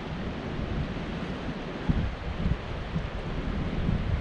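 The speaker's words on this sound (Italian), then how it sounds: "Avevano previsto un vento da 70-80 km all'ora" A strong mountain wind, forecast at 70 to 80 km/h, rushes in as a steady low roar with gusty buffeting against the microphone, no voices present.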